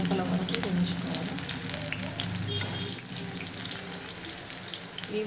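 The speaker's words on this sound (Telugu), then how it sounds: "లోపల వరకు వేయించుకోవాలి." Pakoda frying in hot oil, a dense steady sizzle with crackling bursts, fairly close and continuous throughout.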